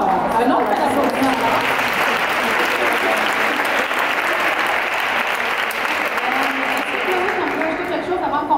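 Sustained, loud audience applause fills a room at a book launch, dense clapping that continues evenly for several seconds with voices murmuring and cheering underneath.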